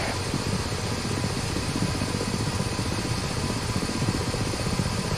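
Ka-50 Black Shark helicopter in the DCS flight simulator, its engine and rotor giving a steady, loud, dense drone with a fast low thump that holds unchanged throughout.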